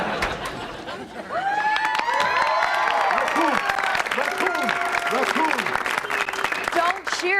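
A sitcom studio audience breaks into loud, sustained applause and whoops, with cheering and laughter mixed into the crowd noise and voices talking over it.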